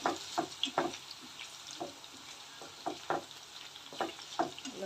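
Raw banana slices frying in a pan with oil and stirred now and then, giving a soft steady sizzle broken by sharp scrapes and knocks of a spoon at irregular intervals.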